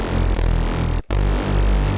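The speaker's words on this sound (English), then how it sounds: "and that sounds like this without any distortion and reverb." A Reese bass synthesized in Harmor with no distortion or reverb, playing a dense, buzzing low drone with a slow phasing wobble in two sustained notes separated by a brief gap.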